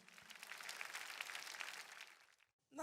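A church congregation claps together in applause, a brief, fairly faint patter of many hands that stops abruptly near the end, followed by the start of another sound.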